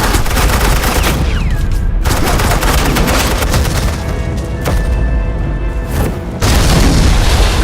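Sustained suppressing gunfire in Batman: The Enemy Within, loud booming bursts of automatic fire rolling almost without pause, dense and close, with a brief gap before the barrage resumes even harder.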